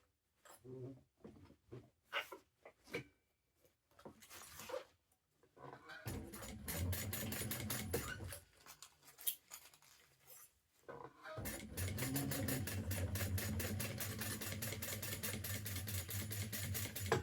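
A sewing machine top stitching an Erica Bowler hat runs in two close bursts of rapid, even needle clatter, after scattered handling clicks and taps near the start.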